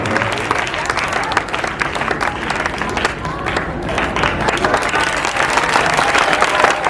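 A school audience at a Teachers' Day event claps loudly for the teachers on stage, a dense, steady wash of applause with crowd noise filling the whole stretch.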